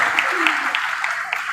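Audience applause at a public speech event, a steady wash of many hands clapping at an even level for the whole stretch, with no voices over it.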